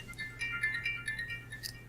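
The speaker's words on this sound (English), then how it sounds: "That's a better ringtone than what you had a while ago" A faint electronic phone ringtone playing a short melody of beeping tones, soft and somewhat distant.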